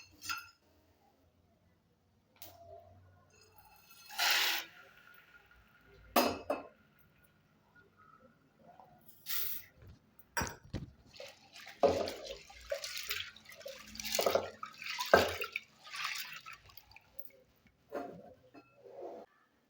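Roasted mochai beans being washed in a vessel, with short bursts of splashing water and clinks of the pot, spaced out at first, then busier and more continuous toward the end, close by with no talk.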